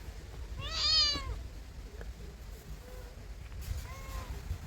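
A cat meows twice, a clear rising meow followed a few seconds later by a shorter, softer one, against a quiet, low background hum.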